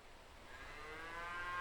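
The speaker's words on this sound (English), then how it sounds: "cattle are still grazing on the lush meadows" A cow moos on a highland meadow in late autumn, a faint, drawn-out low call that swells gradually and grows louder toward the end against a quiet outdoor background.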